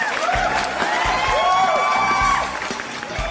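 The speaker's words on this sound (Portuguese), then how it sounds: "palmas pra Laís, gente, palmas" Crowd applause with cheering and scattered whoops, steady and fairly loud throughout, a few voices rising above the clapping.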